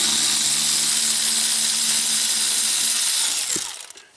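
Ratchet and socket undoing bolts inside a VW Touareg TDI, heard as a loud, steady whirring rattle for about three and a half seconds that then cuts off into a few scattered clicks, with no one talking.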